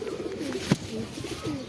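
Shahjahanpuri pigeons cooing nearby, soft low murmuring coos repeating over a faint background with one brief louder bump.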